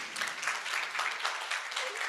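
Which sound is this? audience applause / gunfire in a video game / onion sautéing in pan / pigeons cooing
audience applause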